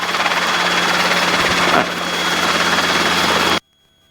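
Robinson R-series helicopter in flight on approach during a training flight, loud steady rotor and engine drone with a low throbbing hum, continuing evenly before cutting off abruptly near the end.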